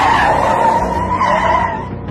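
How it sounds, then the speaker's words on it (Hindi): A police van skids to a sudden stop, its tires squealing loudly and continuously for about two seconds, close and unaccompanied by voices. "रास्ते में जाते जाते अचानक गाड़ी रुकी"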